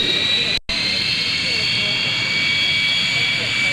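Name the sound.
jet aircraft engine taxiing past crowd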